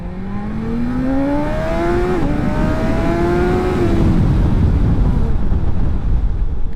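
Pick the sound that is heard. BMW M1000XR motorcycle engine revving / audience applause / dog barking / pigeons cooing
BMW M1000XR motorcycle engine revving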